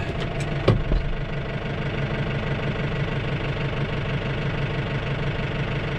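Tractor engine idling steadily and close by, a continuous low knocking rumble with a brief clatter near the start, no voices over it, heard while the tractor is readied for hauling young cattle home.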